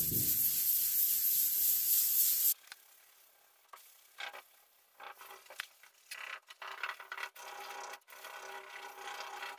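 Hand sanding of rust-repaired auto body work with 400 grit sandpaper, feathering the edge for primer: a steady loud scrape, then a pause and a series of short, uneven rubbing strokes up close.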